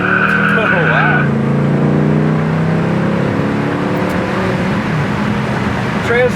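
A 1972 Buick Gran Sport engine revs hard in first gear, then the pitch drops sharply at the shift to second and climbs again under heavy acceleration, loud and close, with a voice speaking over it.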